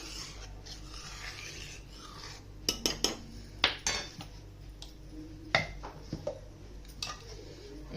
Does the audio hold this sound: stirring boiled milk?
yes